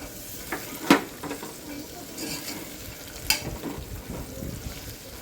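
Soaked chickpeas tipped into a pan of cooking ginger garlic paste for chole biryani, a soft steady sizzle with a couple of sharp scraping stirs and clinks, close by and with no talk.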